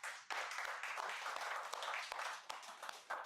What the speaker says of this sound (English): First, a round of applause for that